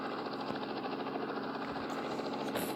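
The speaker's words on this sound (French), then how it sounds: "Avec mon hélicoptère vert fluo." A neon green helicopter in a sandbox video game drones with a steady, dense engine hum and rotor throb, loud and continuous throughout, with no voices.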